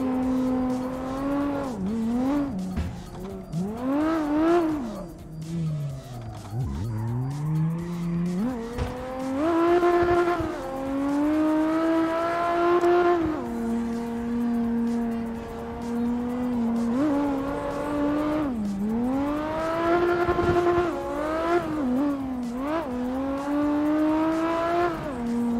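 A Toyota Supra in CarX Drift Racing revs hard and drifts, its engine note rising and falling through repeated throttle swells and shifts, with tire squeal layered over a continuous loud drone.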